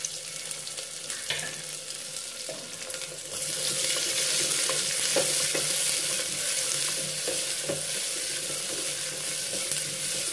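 Small onions frying in a pan make a steady sizzle that swells louder partway through, with occasional stirring clinks close by and no speech.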